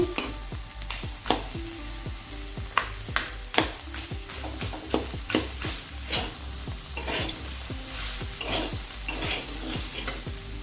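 Fish head sizzling in hot oil in a Bengali kadai (wok) for mochar ghonto, with continuous frying crackle and repeated sharp stirring scrapes and spatula knocks, close and loud, no voices.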